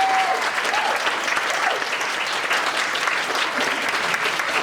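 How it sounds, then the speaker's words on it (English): Audience at the Wexford Rose of Tralee 2022 event breaks into steady, sustained applause, a dense wash of many hands clapping together at close range, with no talk over it. "So to Rachel, a big massive round of applause, please"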